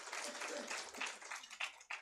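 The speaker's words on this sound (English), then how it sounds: "Can we have a huge round of applause for him?" Applause from an audience at a conference on highway and rural road technologies, a faint, continuous patter of many hands with a few sharper bursts near the end.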